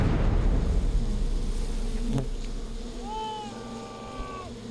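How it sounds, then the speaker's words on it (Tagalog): Swarm of live honeybees handled by a man in the Philippines, a dense buzzing drone close to the mic, with a brief thud and a rising whine-like tone near the end. "Bata pa lang daw si Bong, sanay na siyang makihalubilo sa mga bubuyog."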